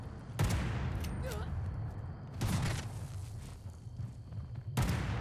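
Gunshots crack out in Fallout 76 in three sharp, loud bursts spaced a couple of seconds apart, over a steady rumbling game background with some speech.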